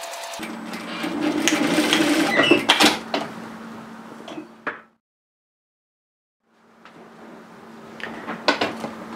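A sewing machine runs in steady stitching bursts while sewing an apron dress seam, with a few sharp clicks, then a silent pause before it starts again, close and fairly loud.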